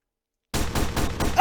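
M16 rifle firing in a Roblox game, a quick string of four or five loud, evenly spaced shots that starts abruptly after half a second of silence.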